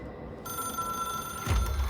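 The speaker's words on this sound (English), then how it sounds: "It is a phone." A landline telephone rings inside the video game Control, its steady, bright electronic ring starting abruptly after a short near-silence, with a low thump near the end.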